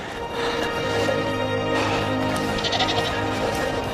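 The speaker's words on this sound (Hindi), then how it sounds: "बकरियों का झुंड।" A herd of goats bleats along a Karakoram mountain trail, several wavering calls overlapping close by over a steady, busy background.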